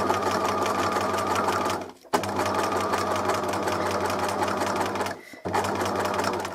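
A sewing machine stitching fabric runs in long, loud, steady bursts with a constant motor hum and rapid needle rhythm, stopping twice for brief pauses before starting again.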